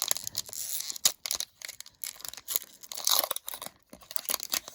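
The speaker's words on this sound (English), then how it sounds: "you guys get to watch me fight with opening these packs" Close, crinkly tearing and crumpling of foil trading card booster pack wrappers in short irregular bursts with brief pauses between.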